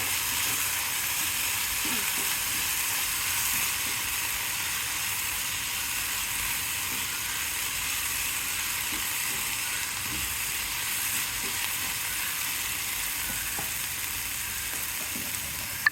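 Masala being stirred into eggplant frying in oil for a North Karnataka ennegai side dish, a steady loud sizzle running throughout with faint scraping of the stirring.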